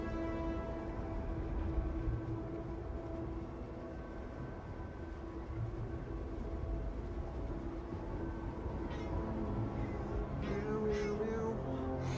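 A cat named Mariner Kitty, the elder, meows in a Starfield game scene, her cries repeating over a steady ambient hum and engine-like drone, moderately loud and without speech.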